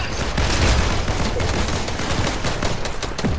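Dense, continuous gunfire from a Fortnite match, a rapid fusillade of overlapping shots and bursts sounding loud and close throughout, with no talk over it.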